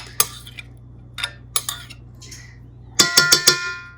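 Grated zucchini is tipped into a mixing bowl, with scattered sharp clinks of a utensil against the bowl, then a quick cluster of ringing taps near the end, close and otherwise quiet.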